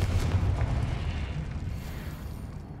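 A Confringo fire spell explodes in Hogwarts Legacy, a deep rumbling blast that rolls out and slowly fades over a few seconds, low and boomy, with no voices.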